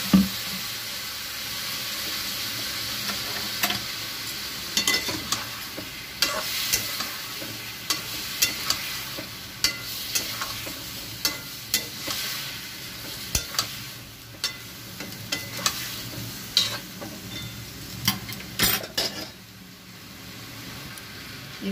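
Ground cumin and coriander frying in a pan sizzle loudly after a splash of water goes in, with a spoon scraping and stirring in repeated close strokes over a steady hiss; no talking.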